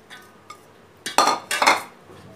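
Chopped onions are tipped into a large bowl with a few hard clinks and scrapes of utensil against the dish, two soft knocks followed by two louder clattering bursts, close and without talk.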